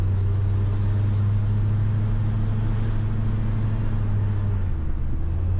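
An old pickup truck picked up cheap secondhand drives along with a steady, loud engine drone and low rumble, its pitch dipping briefly toward the end as a gear changes smoothly.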